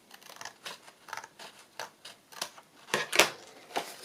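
Scissors snip paper while trimming the edge of a page for a boho journal, a series of short crisp cuts in an uneven rhythm, close and fairly quiet, with one sharper snip near the end.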